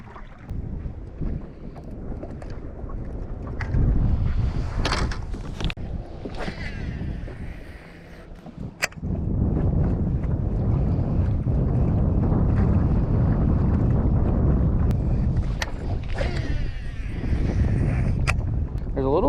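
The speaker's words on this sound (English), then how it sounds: "There's a little bit of wind today" Wind buffets a fishing boat out on Clear Lake, a steady loud rumbling roar across the microphone with gusts rising and falling throughout, while someone talks at times.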